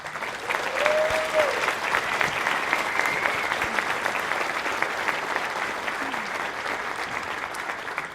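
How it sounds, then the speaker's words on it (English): Sustained applause from a large crowd, dense clapping holding steady for several seconds with a whistle or cheer near the start. "Please, a big round of applause for you and everyone around you here."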